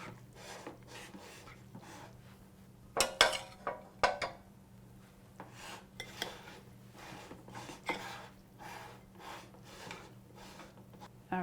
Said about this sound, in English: So now our rice is all nice and cooked. I'm going to add it to our bowl. We just mix everything all together.